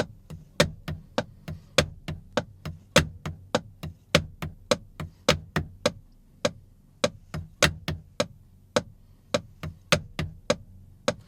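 Crisp snare drum hits in a steady eighth-note pattern alternating louder accents with quieter ghost notes, played alone in a close, dry tone.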